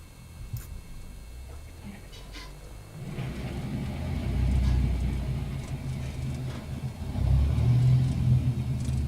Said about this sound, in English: I just need to restart my engine.